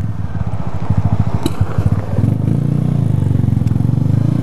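Honda CG Fan motorcycle idling with a dirty, fuel-leaking carburetor, its single-cylinder engine close and loud, chugging in an uneven, sputtering rhythm with occasional popping misfires and brief clatter.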